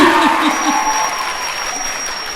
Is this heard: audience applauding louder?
yes